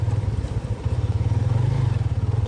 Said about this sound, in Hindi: ताकि बाइक आराम से यहाँ से गुजर जाए।